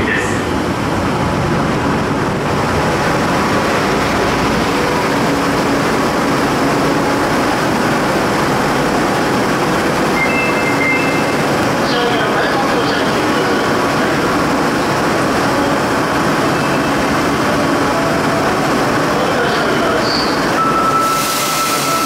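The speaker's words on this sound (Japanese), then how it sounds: "2番線に到着の電車は江坂方面千里中央行きです。" An Osaka Metro Midosuji Line subway train arrives at Shin-Osaka station during the evening rush, a long steady rumble of wheels and motors filling the platform, with faint squeals and an announcement tone near the end.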